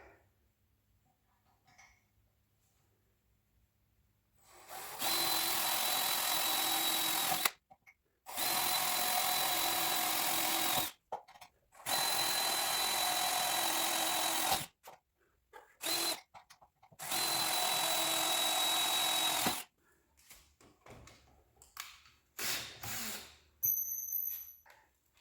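A power drill with a small 1/8 inch bit bores pilot holes while a fuel tank and Holley fuel pump are fitted, running in five loud, steady bursts separated by short pauses, then light handling clatter.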